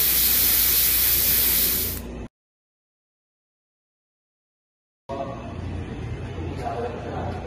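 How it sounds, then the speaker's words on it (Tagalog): Fire extinguisher spraying onto a fire, a loud, dense hiss that holds for about two seconds, then cuts off abruptly into silence before low background noise returns. "Spray on the base of the fire now."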